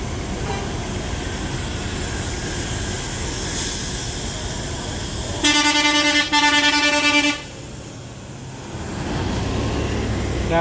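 Mercedes-Benz MB1626 buses pulling away, with a loud multi-tone horn blast of about two seconds over steady engine rumble and road noise that fades briefly, then the engine builds again.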